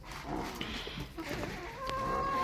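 Chickens clucking over scattered rice at a village farmyard, a few soft intermittent clucks and calls close by under low background noise and faint voices.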